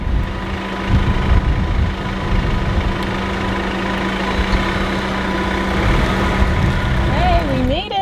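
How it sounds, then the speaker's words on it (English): A parked car idles nearby, a low steady rumble running the whole time beneath a person talking close by, with a brief higher sound near the end. "Oh, I need to turn off my car."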